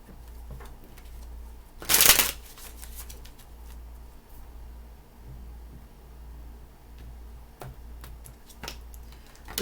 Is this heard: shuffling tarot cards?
yes